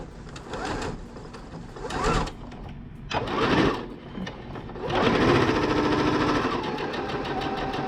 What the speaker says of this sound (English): sew a little hem across the top before I actually sew it together